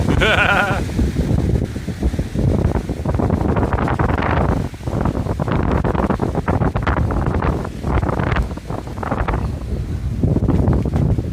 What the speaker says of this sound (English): So we're gonna get that windy sound now.